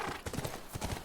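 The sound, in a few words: horse hooves clip-clopping in video game The Last of Us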